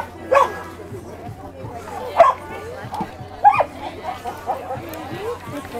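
A North Port police dog barks in a few sharp bursts at an outdoor police scene, loud and close, with people talking over and between the barks.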